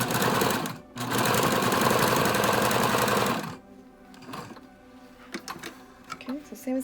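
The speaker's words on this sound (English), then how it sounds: "sewing the side seams on the filter pocket" Sewing machine running steadily as it stitches the side seams of a fabric face mask's filter pocket, a dense continuous whir for a few seconds that stops abruptly, followed by quieter handling clicks and a voice speaking.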